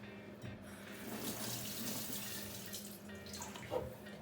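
Homemade fruit yogurt is poured into a jar, giving a close, continuous liquid pouring and gurgling with small splashes and a sharper clink near the end.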